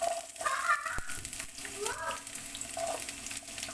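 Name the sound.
onion sautéing in olive oil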